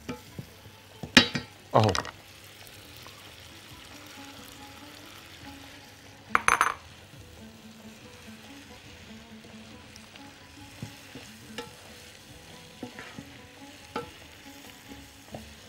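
Mushrooms and rice being stirred in a pan for chicken risotto, with soft scraping and faint sizzling throughout, a few louder clinks of the spoon against the pan near the start, and a brief word spoken once.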